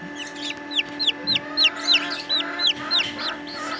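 Day-old Brahma bantam chicks peep in a rapid series of high, bright chirps, about a dozen close together over a steady low background hum, with no talking.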